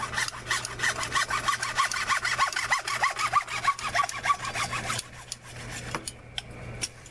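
A hand saw cuts through a 1.5 inch pipe for a sump pit installation, making fast, rhythmic rasping strokes up close and fairly loud, slowing and fading into a few scattered scrapes near the end.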